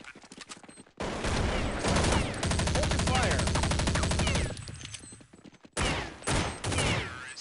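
Sustained automatic rifle fire in the 2000 shooter Counter-Strike 1.0, a rapid, loud rattling stream of shots lasting several seconds, then breaking off and resuming in shorter bursts.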